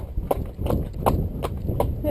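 A horse's hooves clip-clop in a steady walking rhythm on a hard road surface, about six evenly spaced strikes, close and clear over low wind and ambient rumble.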